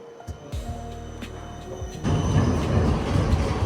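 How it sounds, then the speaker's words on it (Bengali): A tram passes along a shopping street in Germany, its low rumble and rail noise building and growing louder in the second half as it draws near, with a bright wheel squeal early on and no talk. "আর এখান দিয়ে ট্রামও যায়"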